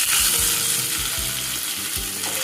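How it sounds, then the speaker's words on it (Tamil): Curry leaves drop into hot oil with mustard seeds for banana flower chutney, setting off a loud, close sizzling and crackling with a few stirring clunks underneath. "இப்போ கருவேப்பிலை கொஞ்சோண்டு போடுறோம்."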